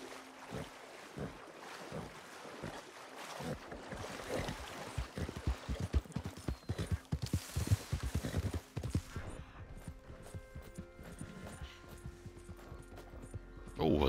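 Horse hooves clip-clop rhythmically in Red Dead Redemption 2 Online while riding near Rhodes, close sharp beats over wind and water ambience, giving way to a quieter tonal backdrop.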